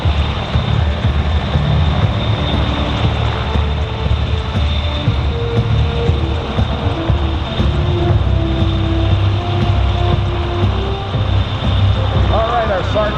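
An RCAF CH-149 Cormorant search and rescue helicopter hovers during an airshow demonstration, its rotor and turbine making a loud, continuous drone with a steady whine throughout.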